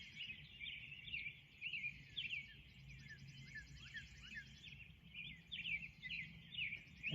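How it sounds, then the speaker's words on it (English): Birds chirping outdoors at a gray, overcast dawn, a dense chorus of high trills and tweets sounding continuously at moderate distance over low ambient hum. "you can hear the birds are starting to go crazy right now."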